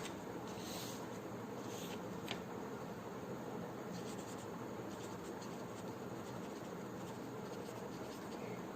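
Pen or marker writing a heading during a Class 12 maths lesson on determinants, a faint, steady scratching under a low constant hiss with a few brief stroke accents.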